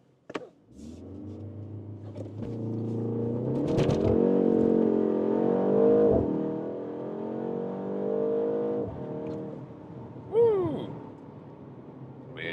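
A BMW M135 with about 300 horsepower launches hard under launch control, its engine note swelling into a loud, sustained rising roar through the gears before easing off, a brief squeal near the end.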